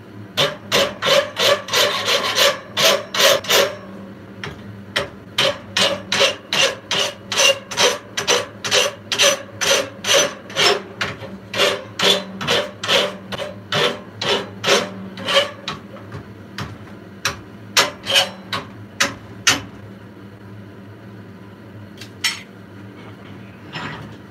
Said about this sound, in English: I am gonna hot rasp, well, warm rasp that.